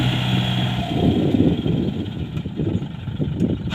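A 20-horsepower Kubota L1-20 tractor, a Japanese import with a 3-cylinder direct-injection diesel, idles steadily close by, its low throbbing running continuously with some wind noise over the microphone.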